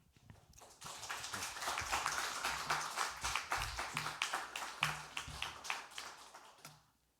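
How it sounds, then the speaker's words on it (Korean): A church congregation at a Sunday worship service claps to welcome the speaker, a dense roomful of applause that swells, holds steady for several seconds, then tapers off. "우리 나오실 때 한번 박수로 환영하면 좋겠습니다."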